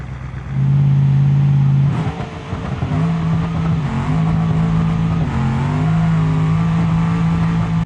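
A twin-turbo Grand Marshal drag racing car makes a loud run, its engine roaring steadily with a brief dip in pitch, then surging again and holding a sustained high-powered drone.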